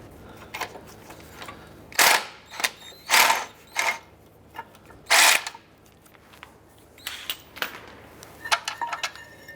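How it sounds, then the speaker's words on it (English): A power tool whirs in several short, loud bursts while a bolt is backed out of the rear brake caliper bracket on a 2004-2009 Dodge Durango, with metallic clicks and handling noises between bursts. "Before you remove this bolt, hold on to the bracket because it will fall once that bolt comes out."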